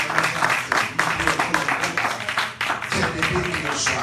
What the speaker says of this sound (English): Clap your hands in Jesus' name.